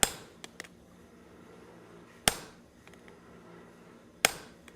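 Chiseling veins into a forged metal bowl on a treadle hammer, three sharp ringing metallic strikes spaced about two seconds apart with small ticks between, close and distinct with no talking.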